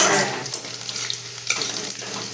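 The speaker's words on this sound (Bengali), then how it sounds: "কালো জিরে রসুন আদা আর শুকনো লঙ্কা একটু ভাজতে হবে" Black cumin, garlic, ginger and dried chili fry in hot oil with a bright, steady sizzle, stirred with occasional scraping clicks, close and fairly loud.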